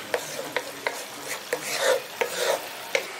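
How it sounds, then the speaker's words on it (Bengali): A spoon stirs katla fish rezala masala in a pan after water is added, with rhythmic scraping taps roughly every half second over a soft simmering sizzle, close and without voices. "জলটা দিয়ে দেওয়ার পর ভালো করে মশলাটার সঙ্গে মিশিয়ে দিচ্ছি"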